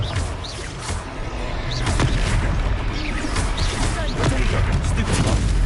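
Spell explosions in the Hogwarts Legacy video game during a boss fight, booming blasts and crashing impacts layered over continuous battle noise, with a voice calling out over the action.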